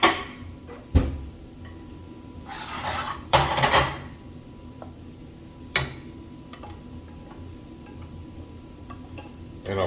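Eggs are scraped from a ceramic pan onto a plate, giving a few clinks and a short rasping scrape followed by quiet, faint kitchen clatter.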